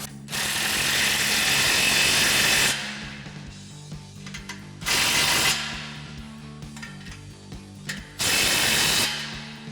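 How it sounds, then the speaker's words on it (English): An impact wrench with a 15mm socket tightens two exhaust flange bolts on a Chevrolet Silverado 2500 during a Flowmaster American Thunder dual exhaust install; three loud close bursts of rapid hammering separated by quieter clinks and handling noise. "tighten down our 2 flange bolts using our 15mm socket on our"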